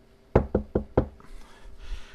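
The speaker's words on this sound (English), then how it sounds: "He goes upstairs to her bedroom and gently knocks on the door of her bedroom." Four evenly spaced, fairly loud knocks on a bedroom door, sounding close by and alone in quiet, with faint soft noise afterward.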